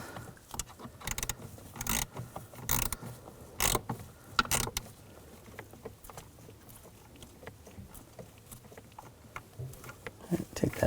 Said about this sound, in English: Using a 7mm socket, you can reach up where the brake light switch is.